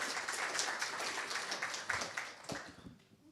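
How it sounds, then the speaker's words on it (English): An audience at a tech meetup claps steadily, a dense patter of many hands that fades out at the end, fairly distant. "another round of applause"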